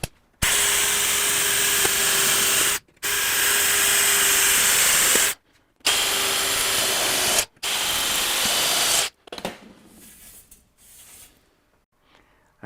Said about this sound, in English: Now I'll open these up to 1/4 inch using a step drill.